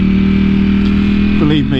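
A Ducati V4 motorcycle is ridden on open road, its engine droning steadily and loudly with a slight shift in pitch near the end, while someone talks over it.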